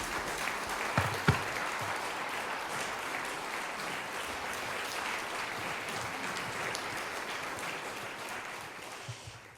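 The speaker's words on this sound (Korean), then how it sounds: "큰 박수로 모시겠습니다" Conference audience applause at an academic symposium hall, steady sustained clapping from a large crowd, moderately distant, with a couple of sharper louder claps near the start, fading slightly at the end.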